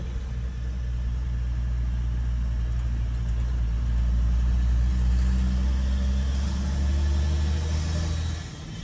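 A GMC 4x4 pickup with a swapped Toyota 12H-T turbo diesel passes by outdoors, its deep engine rumble swelling as it approaches and nears, then easing off, with no talk over it.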